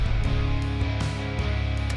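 A midwest emo rock mix pushed through a very fast, heavily compressed bus compressor, dense sustained guitars and bass with drum hits pumping through, loud and thick throughout.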